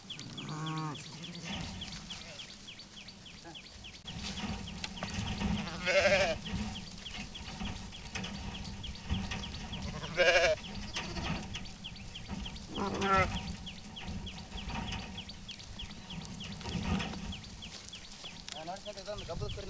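Several sheep or goats bleat at intervals over a noisy outdoor background, with people talking nearby.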